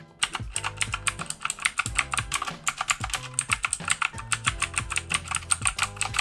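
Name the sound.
typing on blue mechanical keyboard switches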